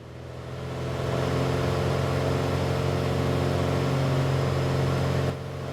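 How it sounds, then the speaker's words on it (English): A simulated Piper PA-28R Arrow III propeller engine in a flight simulator swells up to a steady, droning hum as throttle and prop revs rise, then drops slightly near the end, with no talking. "I'm going to give myself a bit more propeller revs again"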